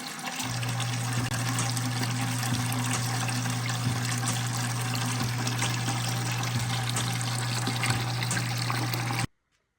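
Water flushing out of a water treatment contact tank used for iron removal, a steady, loud rushing flow with a low hum underneath that runs unbroken for about nine seconds, then stops abruptly.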